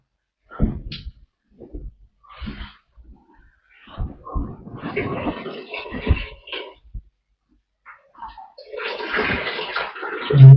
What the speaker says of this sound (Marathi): नुसतंच पाण्याचा आवाज येऊ राहिला